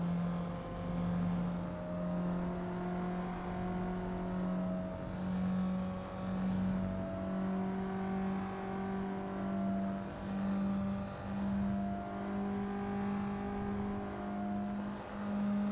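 A car engine hums steadily during a brake test in Assetto Corsa traffic mode, comparing a Nissan and a Mazda, with a constant drone and slowly shifting pitch that holds loud throughout, with no talking.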